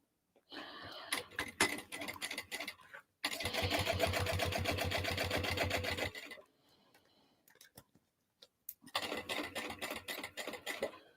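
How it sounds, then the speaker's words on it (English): A sewing machine topstitches a bag 1/8 inch from the edge at a 4.5 stitch length, running in steady rapid bursts: a short run, a longer sustained run, a quiet pause, then another run, heard up close with no talking. "I'm just going to basically stitch all the way up and across and all the way down at 1/8 of an inch from the edge and at my top stitching length"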